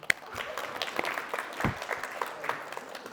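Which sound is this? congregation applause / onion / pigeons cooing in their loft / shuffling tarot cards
congregation applause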